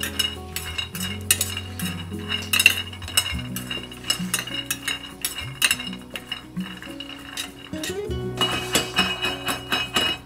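Ingredients for nasi lemak with tofu sambal are tossed in a pan for an even coating. Clinks and scrapes of a utensil against metal sound over light sizzling, in irregular bursts over a low background tone.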